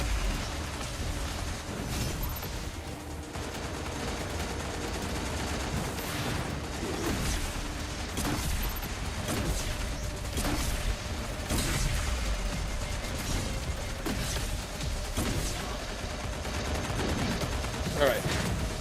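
Rapid bursts of grenade launcher fire and explosions in the video game Destiny Rising keep up a dense, loud barrage of booms and impacts, with a player talking over the combat.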